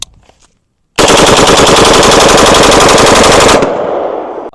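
A 20-inch AR-15 rifle fires a sustained rapid string of loud shots for about two and a half seconds, then stops and leaves a fading echo.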